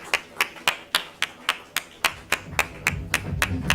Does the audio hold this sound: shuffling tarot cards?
no